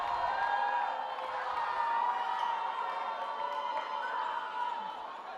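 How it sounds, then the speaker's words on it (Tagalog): A basketball arena crowd during an NBL Chairman's Cup semifinal between Pampanga Delta and La Union gives off a steady, fairly distant roar of cheering that rises and falls slightly throughout. "and the crowd loving it"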